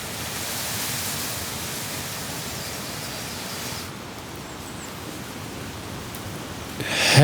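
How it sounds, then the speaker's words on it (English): A small waterfall in Hokkaido, Japan, gives a steady broadband rush of falling water that eases slightly midway, with a brief sharper sound at the very end. "there's like actually a pretty good waterfall way up there."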